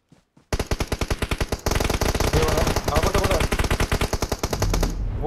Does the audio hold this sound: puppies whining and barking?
no